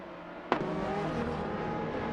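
In a video game race, a Nissan 350Z GT300 and a Lamborghini Gallardo GT3 battle, one car giving a sharp burst of noise before engines hold steady, layered tones over a continuous drone.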